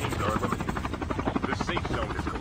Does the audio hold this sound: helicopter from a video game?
yes